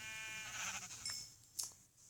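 A Minecraft sheep lets out a faint, wavering bleat, heard quietly and alone against a soft background hiss.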